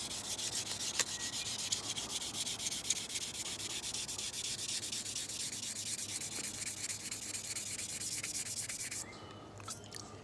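Steady, close rubbing of sandpaper over a Tru Oil coated Remington 541-S rifle stock, an even continuous scratchy hiss in smooth strokes that eases off near the end.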